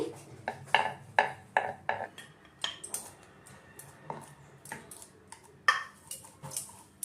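An oiled wooden rolling pin rolling out chicken roll dough on a wooden board, heard as a series of close, sharp knocks and clacks in an uneven rhythm, with light rolling noise between them.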